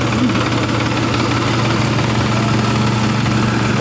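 A MAN truck's diesel engine rumbles loud and close, a steady, heavy droning throb with a knocking texture that holds even throughout.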